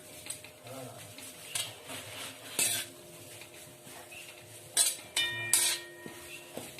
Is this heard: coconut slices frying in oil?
yes